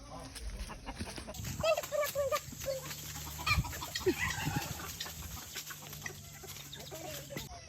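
A little child imitates a chicken at a farm house, with repeated clucking and squawking calls close by in bursts, while background farm noise and a faint adult voice sit underneath.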